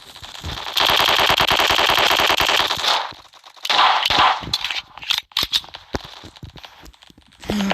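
Rapid automatic rifle fire from AK and M4 weapons in the blocky shooter game Block Strike: a long sustained burst, a pause, another burst, then scattered shorter volleys and single shots, loud and close.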